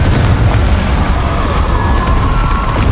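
Confringo explosive spell in Hogwarts Legacy, a dense rumbling boom that fills the short stretch loudly and continuously, with fiery roaring texture close at hand.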